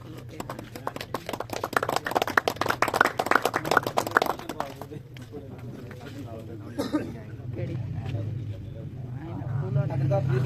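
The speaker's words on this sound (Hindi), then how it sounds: "और चौथे दिन का विनर कबूतर जनाब मलक आफ्ताब अत्तो वाला, जोरदार तालियां देने वास्ते" Audience applause rings out at a pigeon-race prize ceremony, a dense burst of clapping for the first half that then gives way to an amplified announcer's voice over a humming public-address system.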